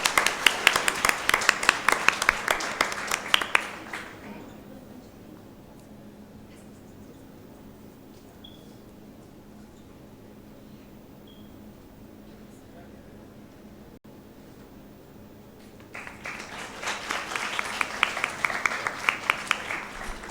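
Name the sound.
thunderous applause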